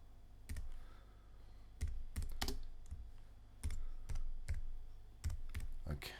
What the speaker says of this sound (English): I'm going to type in the title of my